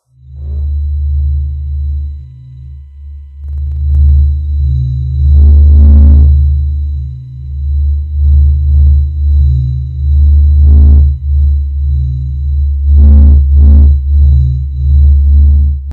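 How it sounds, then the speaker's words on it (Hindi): A deep, throbbing low rumble, a sonified sound of the Sun, swells and fades in slow pulses, with occasional brighter bursts rising over it, loud and without any voices. "सूर्य की आवाज।"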